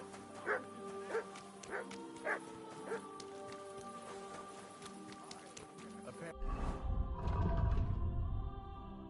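A dog in Kingdom Come: Deliverance II barks in a short run of four sharp yips at even intervals, then a louder rush of movement and rustling noise takes over over a steady game backdrop.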